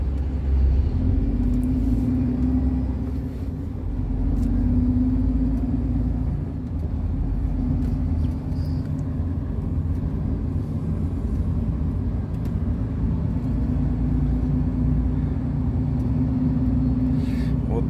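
A car drives along a town street past old buildings and trading rows in Klin, its steady engine rumble and road noise continuous and close throughout, with no one talking.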